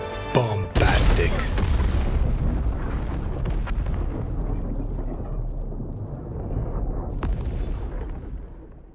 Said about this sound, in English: the weapons hit hard with satisfying force, and the explosions are just, well, bombastic